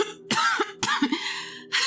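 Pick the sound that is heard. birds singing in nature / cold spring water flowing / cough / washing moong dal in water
cough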